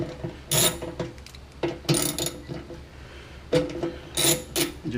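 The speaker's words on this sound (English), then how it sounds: "we've got 6 Allen head bolts here that we're going to pull off next" A 5mm Allen wrench loosening the Allen head bolts on the fuel pump of a Suzuki SV1000 or SV650 motorcycle, giving a series of short scraping, ratcheting metal clicks in irregular bursts, close up with no talk.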